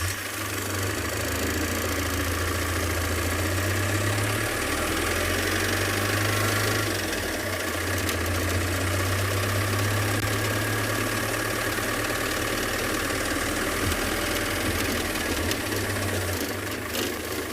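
A safari vehicle's engine runs steadily while driving through a South African game reserve, a constant mid-pitched drone and rumble with mild knocking, loud and unbroken throughout.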